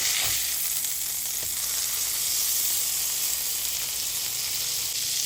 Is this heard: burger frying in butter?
yes